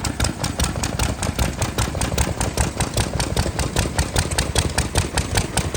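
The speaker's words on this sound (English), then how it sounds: "we're going to go and check out these old steam engines here. The sound is amazing" Old steam engines of various sizes run at a classic car and steam vehicle show in Norden, England, giving a steady, close, rhythmic chugging that repeats evenly throughout with no talking.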